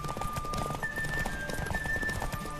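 Hooves of a galloping horse in The Witcher 3 video game beat in a steady, rapid clip-clop rhythm. The sound is continuous and close at moderate volume, with a thin tonal game sound running over it.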